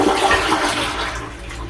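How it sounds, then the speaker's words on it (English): A power-flush toilet in a freshly plumbed spare bathroom flushes with a loud, forceful rush of water that carries through the whole clip and eases slightly toward the end. "Now to test the power flush."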